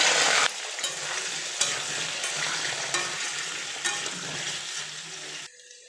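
Cumin seeds, bay leaf and whole garam masala spitting in hot oil alongside paneer, a loud steady sizzle with a sharp burst at the start and scattered crackles and pops throughout, no voices.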